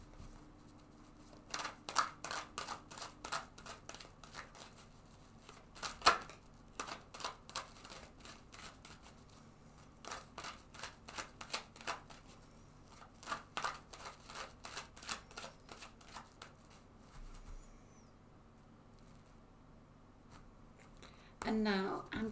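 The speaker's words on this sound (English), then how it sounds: "I'm going to shuffle this deck several times" A deck of tarot cards is shuffled repeatedly in quick riffling bursts separated by short pauses, close and fairly soft, with no talking.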